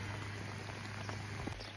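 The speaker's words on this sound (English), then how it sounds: "yeah, a lot of rain." Steady rain falls on an off-grid homestead in winter, a continuous even hiss of drops with no break across the short stretch.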